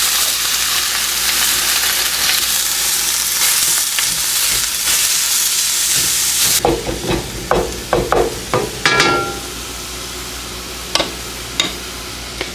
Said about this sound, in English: But we do want to get our hamburger put in here. As you can hear, I've already preheated the skillet.